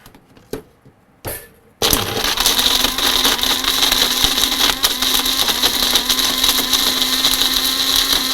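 A kitchen mixer grinder whirs loudly and steadily, powdering dry roasted makhana (fox nuts) in its jar after a few short clicks and knocks, running continuously at close range with no talk.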